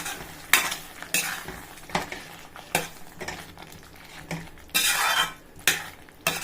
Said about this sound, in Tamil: கத்திரிக்காய் சேர்த்து இதையும் நல்லா கலந்து விட்டுடலாம்